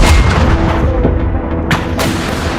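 Heavy booms and blasts roll continuously during the battle for Avdiivka, with two sharp, close cracks of tank cannon fire cutting through a dense rumble of combat.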